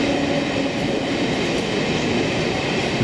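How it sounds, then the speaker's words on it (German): ICE high-speed trains rush through the Berlin Zoo station building without stopping, a loud continuous roar of wheels and rail rumble filling the space with no talk. "Gnaden und herzlos sausten die ICE-Züge durch das Stationsgebäude, ohne sich um Ein- und Ausstiegswillige zu scheren."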